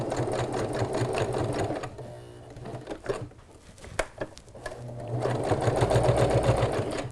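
A sewing machine stitches a heart-shaped pillow in rapid rattling runs, pausing midway with a few clicks and handling noises before resuming its fast steady whir.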